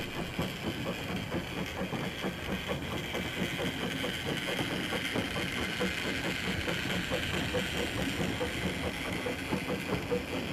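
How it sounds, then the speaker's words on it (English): LBSCR steam locomotive Box Hill comes back toward the station with her train, a steady, low mechanical rumble with a fast, even pulse running continuously at moderate distance, with no talk. "we see Box Hill returning with her train."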